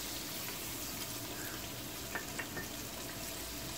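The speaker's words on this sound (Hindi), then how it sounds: "एक पैन है जो हीट हो चुका है, इस पे 2 टेबल स्पून की तरफ मैंने बटर डाल दिया" Butter melting in a preheated pan for Buffalo chicken wings gives a steady, soft sizzle and crackle throughout, with a few faint clinks near the end.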